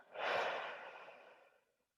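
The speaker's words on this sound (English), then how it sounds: "Can I ask everybody to take a deep breath with me? All right, breathe in" A single deep breath from a group at a citywide meeting, a soft airy exhale that swells quickly and fades out over about a second and a half, quiet and close.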